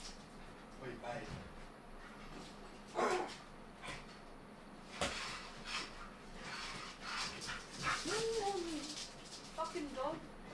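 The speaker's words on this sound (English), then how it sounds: "Fucking dog." A worked-up dog whimpers and gives a few short barks indoors, the sounds fairly faint and scattered among quiet moments, with people talking now and then.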